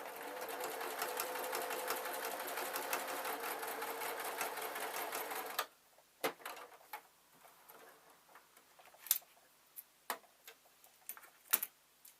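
Domestic sewing machine stitching along the first fold of quilt fabric, a fast rapid ticking run for about five seconds that stops abruptly, followed by scattered soft clicks and handling sounds.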